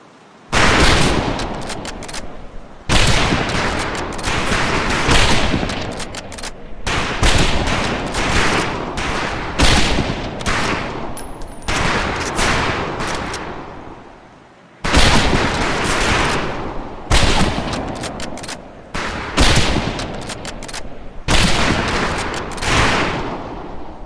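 Rifles fire at a shooting range in the video game Medal of Honor Pacific Assault, sending out loud, close volleys of overlapping shots. The shots come in dense bursts separated by brief pauses and continue for the whole stretch.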